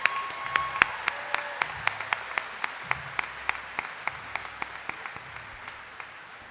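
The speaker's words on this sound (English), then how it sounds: "How about another round of applause for the bagpipers?" Audience at a Thomas College commencement applauding the bagpipers, a steady wash of clapping with sharp individual claps standing out at a regular beat, fairly distant and sustained throughout.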